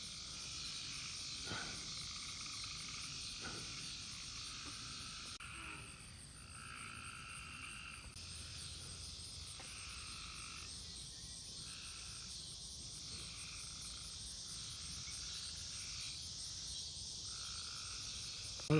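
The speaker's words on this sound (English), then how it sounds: "Those are tree frogs because they're up high." A dense chorus of tree frogs croaking high up at sunset, a steady rhythmic trilling with insects joining in, continuous and moderately distant.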